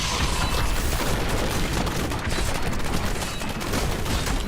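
Relentless Diablo 3 combat from a Demon Hunter firing strafe attacks and lobbing grenades, a dense, loud wash of rapid shots and overlapping explosive booms that never lets up.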